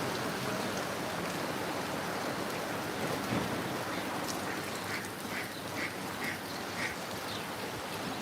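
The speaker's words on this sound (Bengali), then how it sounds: "হাঁসগুলো দেখেন কত সুন্দর করে গোসল করতেছে বৃষ্টির পানিতে" Rain pours steadily while several ducks quack in a short rhythmic run partway through, close by and clearly above the downpour.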